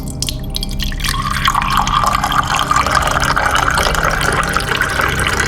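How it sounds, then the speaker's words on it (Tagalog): Water pours steadily into a barrel with a constant splashing rush, loud and close, the tone settling as it fills, with no talking. "Murag mga 30 minutos pa ning estimate na ako mapuno kining baril og tubig."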